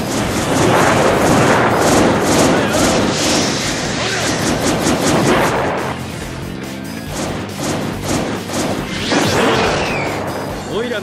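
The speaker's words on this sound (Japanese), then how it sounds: "お前の派手に爆発させてやるぜ" Explosions in the fighting game Naruto Shippuden: Ultimate Ninja Storm Revolution, a dense run of loud booms and crashes with rapid impact hits, mixed under game music and character voices.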